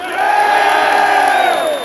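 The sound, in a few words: assembly crowd cheering and clapping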